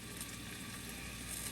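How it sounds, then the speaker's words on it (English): Meatballs sizzling in a frying pan, a faint, steady crackling hiss with no voices over it. "Alright, these are now sizzling."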